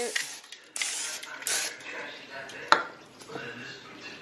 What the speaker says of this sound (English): We're gonna go ahead and spray it.